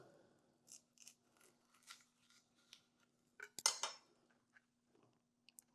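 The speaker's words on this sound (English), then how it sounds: "So cut this one down the middle." A knife slices a fish pepper in half, giving a few soft cutting clicks and one sharper snap as the blade goes through, close and quiet with no talking.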